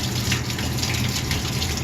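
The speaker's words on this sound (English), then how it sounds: "I'm going to fill it up with some water here" Tap water gushes steadily into a cooking pot for stew, a loud, close, continuous splashing rush with no pauses and no voices.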